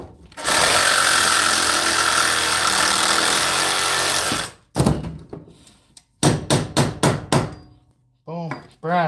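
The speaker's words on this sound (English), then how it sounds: "that's why I hate this Sawzall. It's so big and heavy. Cuts like a massive bastard, though. We'll cut that piece off." A heavy Sawzall reciprocating saw cuts scrap metal with a loud, harsh, steady roar for about four seconds, then stops. Short clanks, knocks and a few brief bursts follow nearby.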